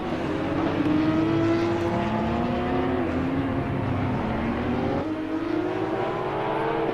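Porsche Cup race car engines in a racing game drone loudly and steadily, pitch rising and dropping through gear changes with a sharp shift near the end, and no voices.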